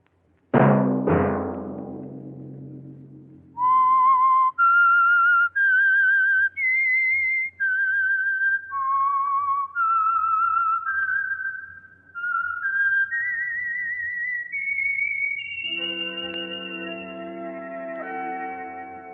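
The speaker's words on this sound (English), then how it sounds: "Let that whistle be your signal for the Signal Oil program, The Whistler" A whistled theme tune for the Signal Oil radio mystery program The Whistler: a lone, echoing melody of clear, sustained notes that step up and down, ending on a long held tone over a soft orchestral chord, after a couple of sharp opening hits.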